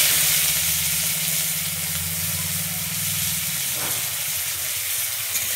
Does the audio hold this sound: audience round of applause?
no